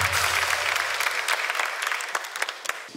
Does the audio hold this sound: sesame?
no